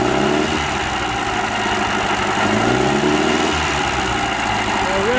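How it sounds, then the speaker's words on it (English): An Atomic 4 inboard boat engine on a rebuild, running loud and steady close by, its broadband mechanical roar holding even throughout with a faint rise in pitch near the end. "Oh, got to give you a rev. It does rev up very nicely."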